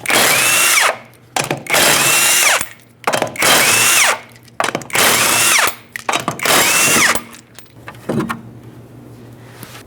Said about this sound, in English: Use a 19mm socket to remove all 5 lug nuts and then remove the wheel.